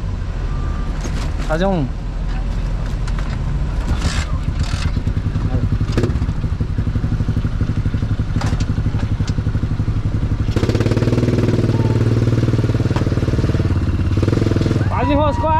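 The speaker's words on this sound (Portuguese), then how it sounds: "Tem que tentar ligar o veículo aqui." A vehicle engine running loud and close, a steady rumbling drone that grows heavier partway through, with people talking over it and clattering noises.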